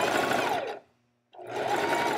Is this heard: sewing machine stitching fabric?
yes